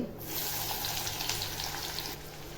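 Onion with cumin seeds and bay leaf fries in hot oil, a steady, close hiss of sizzling that runs unbroken for a few seconds with light crackle throughout.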